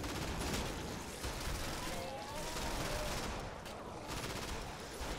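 Shotgun fire in the Killing Floor video game sounds amid dense, continuous combat noise, with blasts and chaotic game effects blending into a loud, busy wash that barely lets up.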